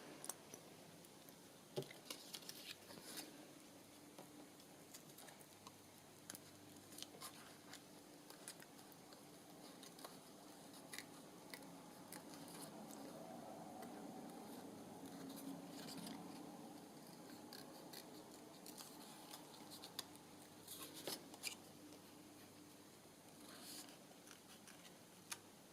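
Scissors cut out a paper picture for a book page tag, with repeated quiet close snips and soft paper rustling spread irregularly across a long stretch.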